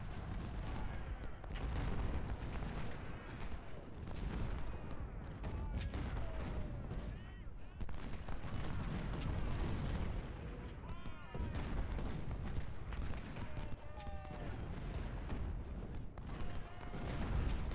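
Civil War artillery in the strategy game Ultimate General: Civil War booms and rumbles in dense, repeated volleys of cannon and musket fire, a continuous battle din at moderate volume with no voices.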